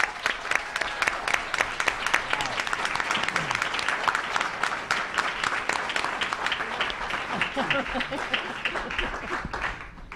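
A school board meeting audience claps to welcome a speaker, with dense, sustained applause from many hands that is loud at first and then slowly thins toward the end.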